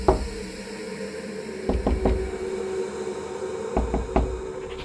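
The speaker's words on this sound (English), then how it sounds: "A faint periodic knocking coming from the walls." Faint knocks sound on the wooden walls of an old cabin at night, sparse single and double taps spaced a couple of seconds apart over a steady low hum and hiss.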